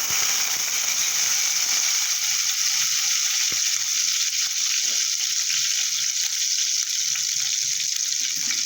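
Chopped green chilies sizzling in oil in a pan for an omelette, a steady bright crackling hiss close by, with a few faint scraping knocks and no talking.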